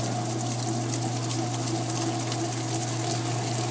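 A washing machine rinses with a steady rush of water and a constant pump hum, loud and unbroken throughout.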